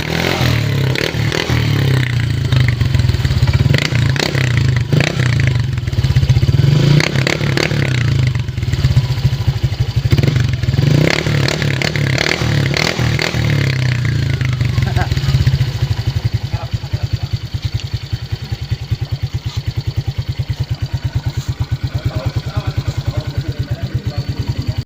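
Motorcycle fitted with a TRC Racing Power Pipe exhaust, revving loud and close for the whole stretch, a deep rumbling drone swelling with throttle blips before settling into a steadier pulsing idle.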